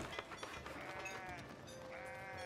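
Several sheep bleat in the Foundation video game, overlapping wavering calls that are moderately loud, with one long sustained bleat near the end over steady background ambience.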